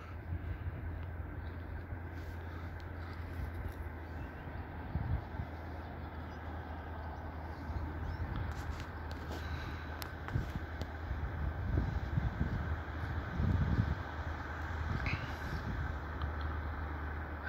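Low steady engine rumble from the oak boat Húni II cruising on calm harbour water at Akureyri, a continuous drone heard from a distance with wind noise over it.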